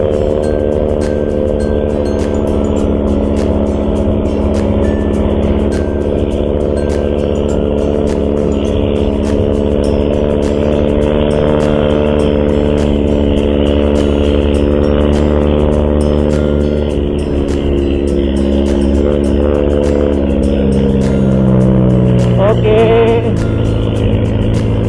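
Motorcycle engine, a Bajaj Pulsar-type B Pro Mark AE 2S, pulling in first gear while riding, a loud steady drone with harmonic tones that climb sharply near the end as revs rise, alone without talk.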